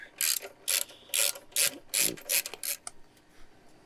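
A ratchet wrench loosens a bolt during an oil change on a 2021 Honda Africa Twin CRF1100L motorcycle: eight or nine quick, crisp clicking bursts, close and fairly loud, with no talking.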